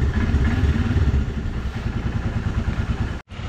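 A motorcycle engine runs close by at a steady, throbbing rumble with some clatter, dropping out briefly near the end.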